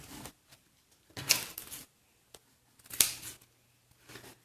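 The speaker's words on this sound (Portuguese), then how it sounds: "Só cortar aqui o viés" Scissors snip through a small piece of fabric bias tape at close range, with two crisp cuts and a few lighter clicks of the blades opening and closing in a quiet sewing setting.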